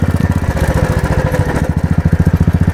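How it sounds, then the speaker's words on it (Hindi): A construction vehicle's diesel engine runs at a four-lane Ganga bridge approach road site between Sultanganj and Aguwani, chugging in a steady rapid pulse, close and loud throughout with no talk. "ये कंस्ट्रक्शन के लिए जो गाड़ी है वो यहाँ पर आप चलते हुए देख सकते हैं"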